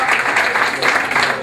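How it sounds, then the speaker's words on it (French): A brief burst of steady, dense clapping from the audience at a Miss Petite de France pageant casting as the candidates are presented, continuous and fairly loud for its short span. "Applaudissements pour toutes nos candidates."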